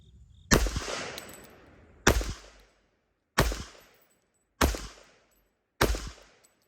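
Five loud, sharp gunshots fired one at a time at a shooting range during a timed five-round course of fire, each with a booming echo that decays before the next, spaced about a second apart.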